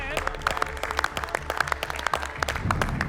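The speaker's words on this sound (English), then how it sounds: "can we get a round of applause for your 3 dishes" MasterChef Australia contestants applaud the top three salad dishes in a studio kitchen, a short burst of brisk clapping from a small group over a musical background.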